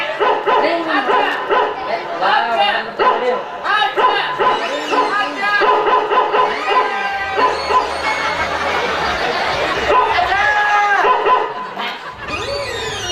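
A dog barks and yips repeatedly amid loud, overlapping shouted dialogue and a lively outdoor crowd during a North Karnataka Kannada comedy stage play.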